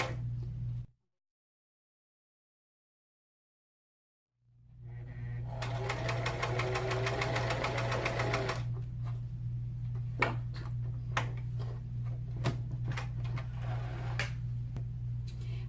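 A sewing machine stitches the border of a mitred-corner tablecloth after a few seconds of silence. It starts with a fast, rattling run of close needle strokes, then slows to a low hum with scattered individual clicks.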